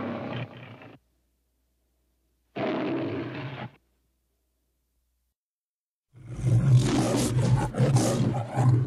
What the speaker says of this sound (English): One is the original roar, and one has electronically produced roars.